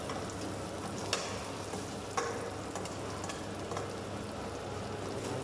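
Garlic and aromatics sauté in a pan for chicken pineapple, a steady close sizzle with light stirring scrapes and two brief clinks, no talking.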